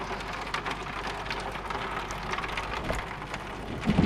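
Steady rain pattering on surfaces outdoors at night, a continuous dense hiss of drops with occasional louder splashes, close and without speech.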